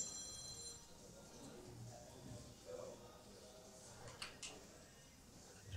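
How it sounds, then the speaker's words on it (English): A mobile phone rings among the crowd at a professional 10-ball pool match, a faint, brief electronic tone under quiet arena murmur with a couple of soft knocks. "Phone going off in the crowd."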